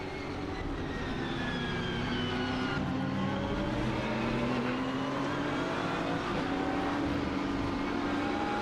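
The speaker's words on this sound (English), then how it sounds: "Listening to the BMW whining around the circuit with Jordan Pepper." A BMW race car's engine whines around the circuit during a 24-hour endurance race in Dubai, a continuous loud tone rising and falling through gear changes as it drives, with no commentary over it.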